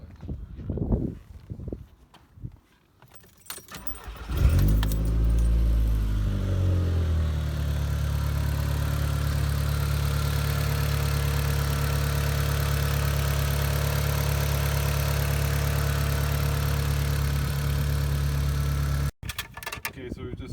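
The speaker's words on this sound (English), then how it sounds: "we've just had the engine running for a second, let the oil circulate in there" A VW/Audi 1.8T engine starts after an oil change and settles into a steady, close idle that holds for about fifteen seconds, after a short stretch of people talking beforehand.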